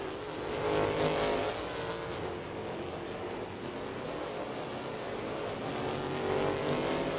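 Derby cars race at Slinger Speedway in the Rigs of Rods game, a steady blended engine drone of several cars held at racing speed throughout, with no voices.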